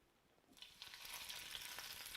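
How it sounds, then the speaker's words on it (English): Taquitos drop into hot oil and break into a loud, steady hiss of sizzling and crackling after a quiet start. No one speaks. "You can hear it sizzle."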